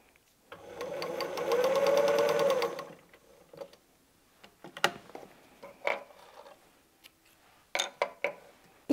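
A sewing machine runs a patchwork seam on a Dresden Plate quilt block, one close, steady whirring burst of about two seconds, followed by scattered clicks and light handling of fabric and tools.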